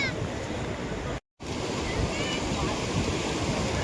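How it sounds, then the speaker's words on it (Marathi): Sea waves on a beach give a continuous broadband wash of surf and wind with a brief dropout, steady and fairly close, with faint voices underneath. "समुद्राच्या लाटांचा आवाज हे फक्त इथंच गेल्यावर अनुभवायला भेटतं"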